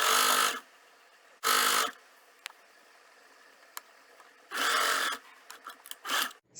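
A home tailoring sewing machine stitching pocket edges on a kurti or trouser runs in three steady whirring bursts of about half a second each, with quieter clicks and a short final burst between, close and clear with no talk.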